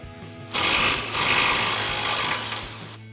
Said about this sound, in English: start by removing our bottom shock mounting bolt with our 21 millimeter socket on our impact